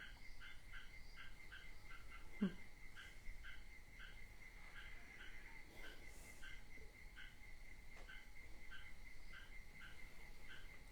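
A frog croaks in steady, evenly spaced pulses, quiet and somewhat distant, over a soft outdoor background hiss, with no voices.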